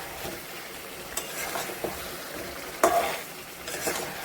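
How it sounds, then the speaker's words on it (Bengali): Chicken curry with fried potatoes is stirred and sautéed in a pan, a soft continuous sizzle broken by a few scraping spoon strokes, heard close and fairly quiet with no talking. "লঙ্কা দিয়ে একটু ভালো করে কষিয়ে,"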